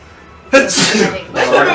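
A sharp sneeze bursts out close by, followed moments later by a second sneeze-like burst, with faint background noise between.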